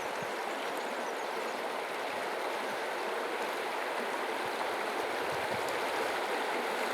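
A shallow river riffle sends up a steady, continuous rush of broadband flowing water at close range, unbroken for the whole stretch with no voices.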